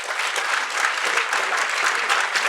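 A room full of people applauds at a civic service gathering, with dense continuous clapping at an even, fairly loud level and no pauses.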